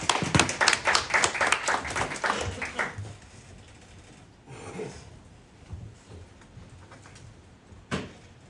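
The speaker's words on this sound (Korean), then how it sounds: "박수로 모실게요" An audience at a branch office seminar claps to welcome a speaker, a dense burst of hand claps for about three seconds that fades into quiet room tone, with a faint stray clap near the end.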